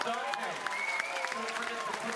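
Audience applause for the Pacific Jewel, a model ship with a whale tail, at an event in Vanuatu: steady dense clapping from a crowd filling the moment, with faint voices and tones underneath.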